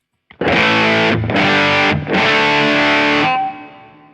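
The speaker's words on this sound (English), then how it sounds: "So I will show you how it sounds using the normal Kemper." Electric guitar through a Kemper Profiler on a normal JCM 800-style profile: three loud, saturated distorted chords struck in quick succession, the last ringing out and fading.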